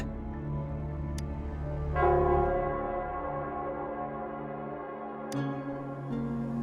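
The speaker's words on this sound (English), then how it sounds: "it's the Nell Squares bell." The Nell Square bell in the video game Wuthering Waves rings out in long, sustained tolls that overlap and decay, with a fresh strike about midway and no speech.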